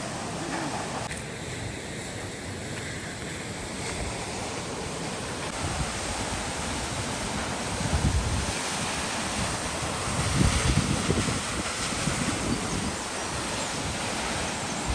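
A mighty waterfall rushes in a broad, continuous roar. Wind buffets the microphone, with slightly louder surges partway through.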